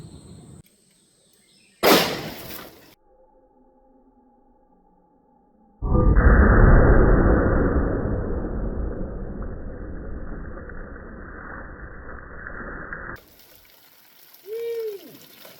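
A single sharp .357 Magnum gunshot strikes a water jug holding ballistics gel, followed by a long loud spray and splash of water that slowly fades, then quiet with some faint outdoor noise.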